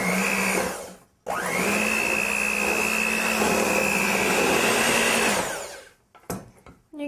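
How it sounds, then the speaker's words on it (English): Electric hand mixer beating vegan chocolate chip cookie dough, a steady loud whirring drone lasting several seconds after a brief start, then switching off to rattling bowl sounds. "Just pick your mixer back up."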